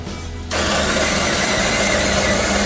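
An espresso machine brewing a single 70 ml cup starts up abruptly with a loud, steady mechanical pump hum that holds constant and close after a brief quieter moment.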